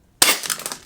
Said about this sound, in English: So I'm going to fire from the right barrel.